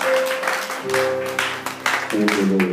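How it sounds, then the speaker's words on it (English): A church congregation claps in praise, with rhythmic bursts of hand claps over sustained musical tones, close and moderately loud. "Give the Lord a hand clap of praise"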